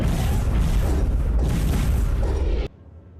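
A deep, rumbling turret boom from a video game rolls on continuously for nearly three seconds, heavy and loud, then cuts off abruptly to near silence.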